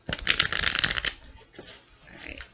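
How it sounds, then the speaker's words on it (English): Tarot cards are shuffled by hand in a burst of dense riffling for about a second. Softer rustling and handling of the deck follows, fading then rising slightly. "I think we have 3 more shuffles."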